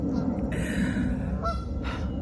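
Geese honk by the road, loud nasal calls close by, one long call and then a couple of short bursts over a steady background rumble.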